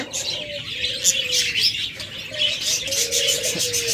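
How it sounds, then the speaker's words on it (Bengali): Caged doves (ghughu) and other pet birds at a bird sale call together, with soft repeated cooing tones underneath and bright chirps and tweets scattered above, steady and fairly close throughout. "যারা এরকম চমৎকার ঘুঘু পাখিগুলো নেবেন একদম ডিম সহ"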